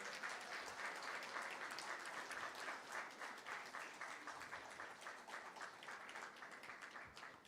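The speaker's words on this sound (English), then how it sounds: "I want everybody in the audience to give him a big round of applause of welcome." Wedding guests at a Hindu Vivah Sanskar ceremony applaud to welcome the groom, a steady, fairly faint wash of many hands clapping that carries on unbroken for several seconds.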